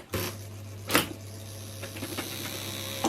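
An IBM Selectric III 670X electric typewriter, its keys gummed up, gives a few sharp mechanical clacks and softer clicks over a steady motor hum, close by with no talk.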